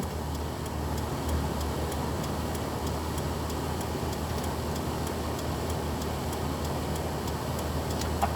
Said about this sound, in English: I think these have actually got a proper indicator relay.